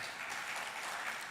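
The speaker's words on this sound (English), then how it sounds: "Here in Accra, we are clapping for you." Audience in Accra applauding for a virtual speaker at a high-level expert panel discussion, a short steady burst of dense clapping heard alone and fairly close.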